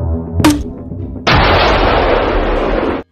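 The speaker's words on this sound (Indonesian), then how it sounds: "dia bisa menembakkan koin-koin" A toy launcher fires coins: a sharp pop is followed by a loud, continuous mechanical rattle and whir lasting under two seconds, then stopping abruptly.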